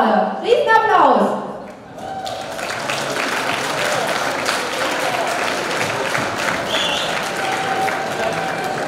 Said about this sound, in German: Riesen Applaus!